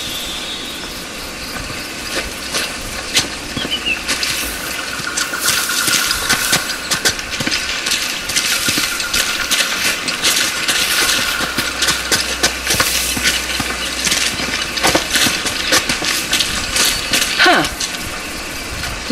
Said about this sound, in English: The locks are retracting when I turn the wheels.